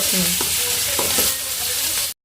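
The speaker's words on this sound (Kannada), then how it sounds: "ಇದು ಸ್ವಲ್ಪ ಎಣ್ಣೆ ಒಳಗ ಫ್ರೈ ಮಾಡ್ಕೋಬೇಕು" Masala bread ingredients fry in oil while being stirred, with a loud, close sizzle and several spoon scrapes against the pan, cut by a short silence near the end.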